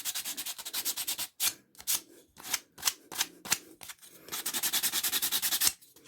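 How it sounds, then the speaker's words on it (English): Sandpaper is rubbed along the cut edges of a wooden board for a model layout. It makes quick rhythmic rasping strokes, close and crisp, with short pauses and then a fast steady run of strokes. "Give all the edges a quick sand."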